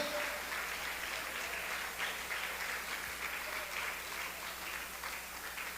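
Congregation applauding inside a church during a sermon, a steady, moderately distant wash of many hands clapping that runs throughout without a break.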